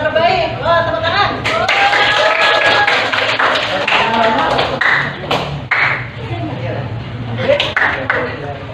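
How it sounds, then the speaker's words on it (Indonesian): Students clapping hands in an Indonesian classroom lesson, a lively burst of claps mixed with cheering voices and chatter, loud and close, continuing over several seconds. "Wah, tepuk tangan."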